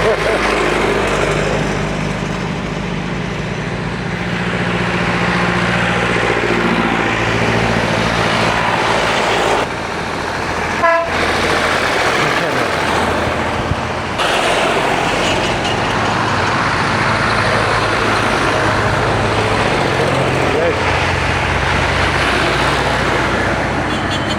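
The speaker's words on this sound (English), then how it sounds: "Wow, a lot of tractors. Old tractors." Many old tractors pass along a road one after another, a steady loud rumble of engines building and fading as they go by, with a brief voice and wind noise mixed in.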